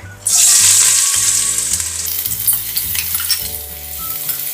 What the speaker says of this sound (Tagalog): So, mainit na yung mantika natin. Unahin nating igisa yung ating ginger.